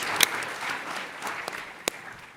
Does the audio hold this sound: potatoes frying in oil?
no